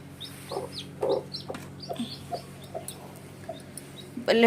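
A hen with newly hatched chicks clucks in short repeated bursts nearby, with faint high chick peeps and a louder flurry of clucking at the end.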